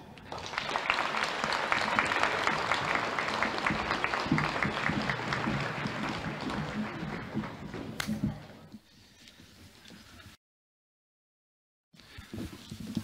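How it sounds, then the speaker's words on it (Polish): Applause from the audience at a Polish town council session honouring teachers, moderately loud at first and then fading out before a brief silence. "Myślę, że należą się również brawa."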